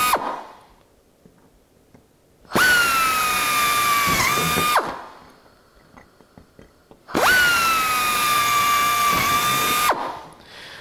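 Power drill boring out existing pilot holes in metal to a number 30 (one-eighth inch) size, two loud sustained bursts of whining drilling separated by quieter pauses with small clicks.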